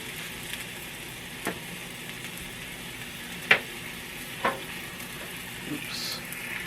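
Unsalted butter sizzles in a frying pan for a grilled cheese with smoked sausage and egg, a steady low frying hiss with a few sharper pops and spatters standing out over it.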